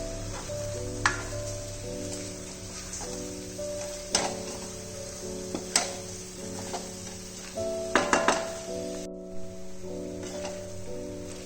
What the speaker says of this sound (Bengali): মাছের মাথাটা ভালোভাবে তরকারিটার সাথে মিশিয়ে নিলাম